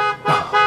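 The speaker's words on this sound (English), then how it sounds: "stop honking your horn?" A car horn honks twice in quick succession, two loud, close blasts separated by a brief gap.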